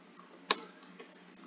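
Several light keystrokes tap on a computer keyboard while a BASIC program is entered, one sharper key strike followed by softer clicks over a steady background hiss.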